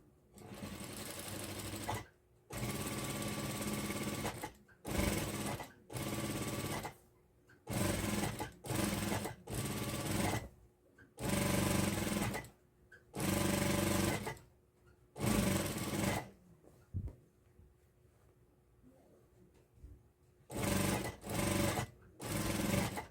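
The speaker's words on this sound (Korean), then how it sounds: "박음질 해주세요." A sewing machine stitches fabric for a flower sun bonnet in repeated bursts of fast, even whirring, stopping and starting several times with a longer pause midway, close and moderately loud.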